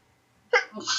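A single sudden human sneeze in the middle of an online class lesson, sharp and close, followed by a brief breathy exhale and the sound of a person settling afterward.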